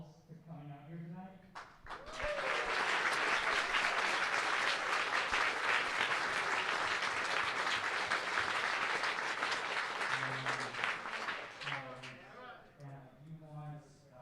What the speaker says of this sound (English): I want everybody to give a round of applause to themselves for coming out here tonight.